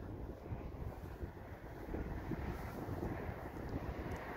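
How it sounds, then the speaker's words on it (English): Constant rumbling wind buffeting the microphone during a UAV test flight, loud and blustery, with no voices. "It's just really windy."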